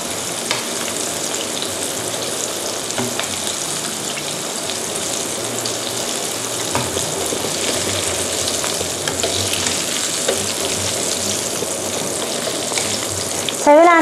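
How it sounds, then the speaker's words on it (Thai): Small shrimp wontons deep-fry in hot oil with a loud, steady, dense sizzle that runs unbroken for the whole stretch, with faint scraping of a strainer now and then. "ใช้เวลาในการทอดนี่แค่แป๊บเดียวเท่านั้นนะคะ"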